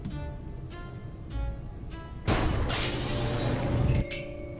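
In the video game Gibbous, a gunshot shatters a pane of glass above a lab door, giving a sudden loud crash with a bright spray of breaking glass that rings on for over a second before cutting off.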